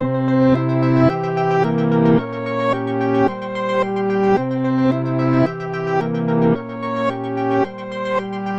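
A piano loop plays repeating chords with an added rhythmic layer, full and reverberant, cycling steadily with no voices.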